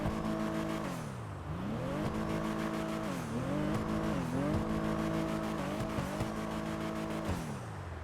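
Dinka Chavos V6 car engine in GTA Online, revved repeatedly through rising and falling pitch sweeps with sharp gear shifts, loud and close, with no talking.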